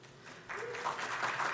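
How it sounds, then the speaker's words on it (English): Short burst of audience applause for candidates at a city district candidate forum, steady soft clapping heard from a distance for under two seconds. "We'll allow applause in this section."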